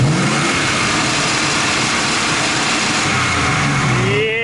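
A car engine fitted with an MSD 2-step rev limiter revs hard with the clutch pushed in, producing a loud, continuous, close roar that holds high and then rises in pitch near the end.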